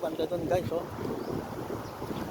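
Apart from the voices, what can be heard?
strong wind blowing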